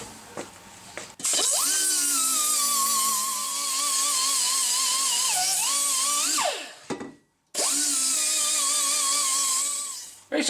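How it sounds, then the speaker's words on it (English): Hand grinder working down a half-inch-thick welded steel block on an air intake pipe, a loud sustained high-pitched whine in two long passes broken by a short stop, pitch dipping as it bites. "the rest gets ground down by hand"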